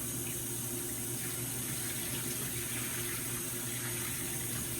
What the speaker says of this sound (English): If you rinse them off carefully in the water, you don't have to really wipe the lenses down.